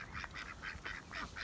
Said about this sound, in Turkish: Bunlar da ördekler.